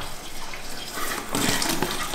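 Water splashes and gushes steadily as a horse's mouth is rinsed, growing louder and fuller after a moment, close by with no talking.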